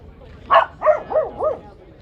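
Four quick dog barks in a row, the first sharpest, with the rest slightly softer and evenly spaced, fairly close with faint background noise.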